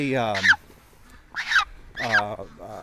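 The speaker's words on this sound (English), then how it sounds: "I got to keep the goose in my hands here because I don't want to be chasing it." Goose held in the hands giving three loud, close honks at roughly one-second intervals, each a nasal, raspy call, with no talking.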